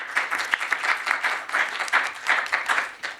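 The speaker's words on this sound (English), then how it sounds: "Yeah, round of applause for our speakers." Audience applause for the speakers after a panel on labor organizing in the gaming industry: many people clapping with audible individual claps, steady and moderately loud, swelling and dipping slightly across its length.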